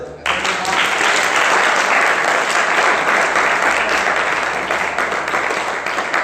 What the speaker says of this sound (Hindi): अरे ताली तो बजा दो।